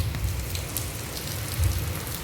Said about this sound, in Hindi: हम दोनों बारिश देखने आए हैं